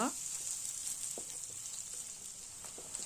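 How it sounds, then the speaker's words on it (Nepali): Finely chopped onion and ginger frying in a pan for dhaba-style palak paneer give a soft, steady sizzle, quiet and close, with faint intermittent stirring taps. "त्यसलाई पनि राम्ररी फ्राई गर्नुपर्छ, एकछिन कलर चेन्ज हुने गरेर"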